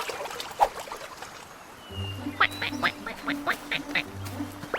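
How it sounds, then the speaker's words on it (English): A duckling gives several small, high quacks and peeps at intervals near water with a faint trickle in the background, while low tones play underneath. "Look! A duckling! It's small."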